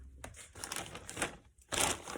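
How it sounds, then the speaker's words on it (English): A Sharpie marker squeaks and scratches across a plastic bag in several short strokes with brief pauses between them, accompanied by crinkling of the plastic, close and fairly quiet. "I'm writing it on a plastic bag with a Sharpie."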